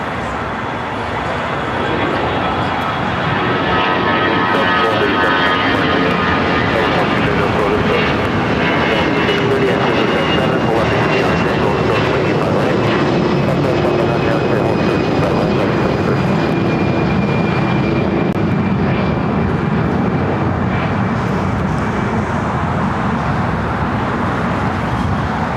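An airliner takes off from runway 25 right at LAX, its engines a loud, sustained roar with a faint rising whine that holds steady for the whole stretch.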